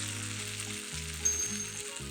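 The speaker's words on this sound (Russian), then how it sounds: "Ставим разогреваться сковородку с растительным маслом." Potato pancake batter made with onion sizzles in hot vegetable oil in a frying pan, a steady close crackling hiss with a low hum beneath it and no voices.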